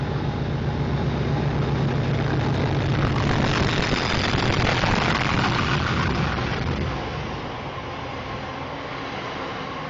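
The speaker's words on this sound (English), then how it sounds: "37-501 Teesside Steelmaster, dragging 730-021 and 730-034. Coming through 1 minute late" Class 37 locomotive 37-501 Teesside Steelmaster passing at Water Orton while dragging Class 730 units 730-021 and 730-034, a loud, close, sustained diesel roar with rumbling wheels that builds, holds, then eases slightly as it goes by.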